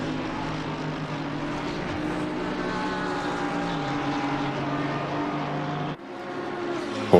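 A Porsche race car engine in Assetto Corsa Competizione at the Monza 8-hour endurance race, a loud steady droning whine held at high revs, then a sudden dip as it lifts off before climbing again, with no voices.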